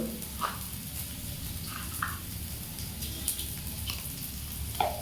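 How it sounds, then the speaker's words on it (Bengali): Whole spices crackle and sizzle in hot oil as a tempering for dal with bitter gourd, a steady frying hiss with a few scattered pops, close and moderately loud. "একটু ফোড়ন দিয়ে দেবো হালকা করে"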